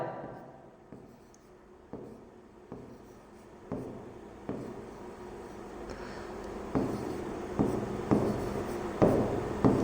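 A teacher writes on a classroom board during a class 10 physics lesson on reflection of light, a series of close, crisp chalk taps and strokes that grow slightly louder and quicker toward the end.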